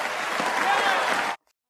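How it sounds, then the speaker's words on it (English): A crowd in a TV drama scene bursts into loud, sustained applause that carries on steadily, then stops abruptly into silence. "He gets reintroduced to a round of applause."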